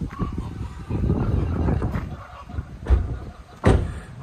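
Chickens squabble in a farmyard, with scattered clucks and squawks and a couple of sharp bursts of scuffling over a busy, noisy background; no talk.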